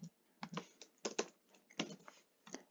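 Typing on a computer keyboard, with a short, uneven burst of soft key clicks, close and fairly quiet, with no talking.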